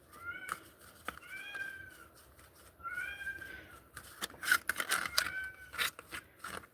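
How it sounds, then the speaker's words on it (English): Several house cats meow repeatedly from downstairs, their rising and falling calls clear and fairly close. Bursts of scraping and rustling fill the second half. "They're downstairs, and they're so vocal."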